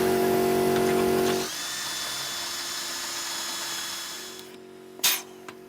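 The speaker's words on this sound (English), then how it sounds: "This is a very nice tool to have when you're doing as many rivets as we're doing now." A powered rivet gun sets rivets on sailboat rigging with a loud sustained whine that drops in pitch, winds down, and ends with a sharp snap and a couple of small clicks.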